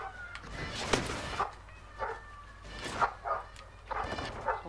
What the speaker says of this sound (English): sounds like getting ripped apart by a dog.